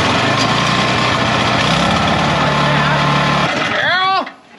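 A Toro Power Clear 180 snowblower with a rubber auger runs loud and close at a fast, steady idle after starting on choke, then sputters and dies near the end.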